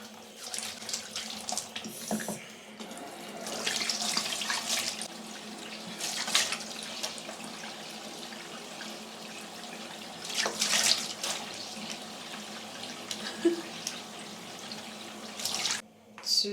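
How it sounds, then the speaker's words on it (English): Tap water runs into a bathroom sink while the face is wetted, a steady splashing stream with intermittent louder splashes as hands cup and move through the flow. "I'm going to slightly wet my face with water."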